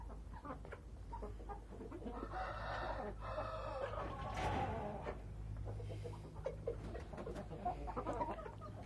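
A breeding rooster and hens on a farm cluck and call together, with a few louder rooster cries rising over a steady background of farmyard noise.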